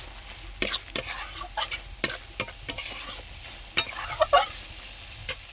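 A spatula stirs bottle gourd with small prawns in a pan, giving repeated scraping strokes at an irregular rhythm over a soft sizzle, close and clear with no talking.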